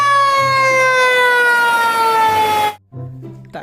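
A toy fire engine's siren wails loudly and continuously, its electronic tone gliding slowly downward before cutting off abruptly, followed by a short, softer electronic restart.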